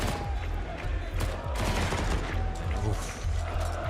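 Gunfire in a Counter-Strike match on Nuke between Vitality and GamerLegion, dense rapid bursts of shots and clattering fire throughout, with a caster's voice talking over it.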